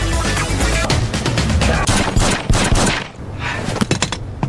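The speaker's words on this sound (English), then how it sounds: "He shot Dex in the head until the man died." Dense, rapid gunfire crackles through a violent fight scene in a sniper action movie, with loud overlapping shots in a sustained burst that briefly drops away before more scattered shots.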